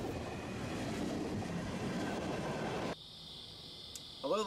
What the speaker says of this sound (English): Two Nights of Morristown and Erie MX91 Freight at Convent and Mountain Stations.